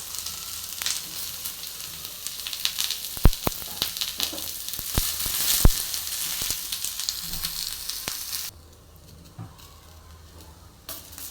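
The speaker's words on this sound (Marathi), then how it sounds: "आता कांदा टाकून घ्यायचा कांदा भाजून घ्यायचा व्यवस्थित" Onion fries in a pan for a creamy paneer masala, giving a steady close sizzle with a few sharp crackles and stirring scrapes before the sound drops to a softer, quieter fry.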